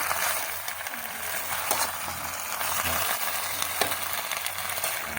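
Alugbati greens cooking in a pan and being stirred, a loud continuous sizzle with occasional sharp scrapes and knocks of the spoon against the pan.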